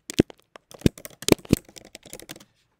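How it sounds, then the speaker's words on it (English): Someone types on a computer keyboard, a quick run of crisp, close clicks with a few sharper key strikes, tapering off into quiet at the end. "So I'm gonna just type in here."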